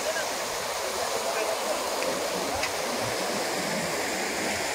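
Floodwater spreads across fields and village ground, producing a steady broadband rush of flowing water. It stays constant and fairly close, with a faint voice underneath.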